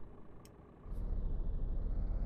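A Scania truck in Euro Truck Simulator pulls away, a quiet hiss giving way to a deep rumbling engine that swells to a steady, loud low drone; no voices.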